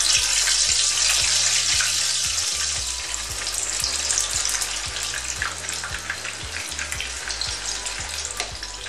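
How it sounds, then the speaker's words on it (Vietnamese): Squid cakes frying in bubbling oil in a home kitchen give a loud, steady crackling sizzle that runs throughout without any talk. "Bây giờ mình mới đi rán các bạn nhé. Dầu xung quanh cái đĩa đũa nó sủi lên thế này là được các bạn nhé."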